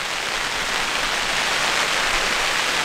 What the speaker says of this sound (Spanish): como escuchan ahí, empezó a llover